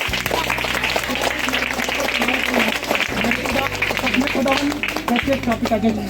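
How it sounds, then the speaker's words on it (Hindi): A congregation at a Christian healing prayer meeting on a hill claps loudly and continuously, the dense applause mixed with a low sustained musical drone and a voice speaking over it. "जोर से ताली बजाइए।"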